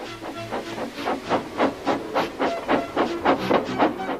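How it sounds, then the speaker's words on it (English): A steam tank engine chuffing in rapid rhythmic bursts of hissing steam, loud and close, about three puffs a second, in a Thomas & Friends scene. "with much noise and blowing of steam, got ready to back onto the train."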